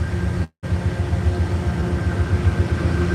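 A train passes close by outdoors, a steady low rumble with a faint whine above it, briefly cut to silence near the start before the rolling noise continues.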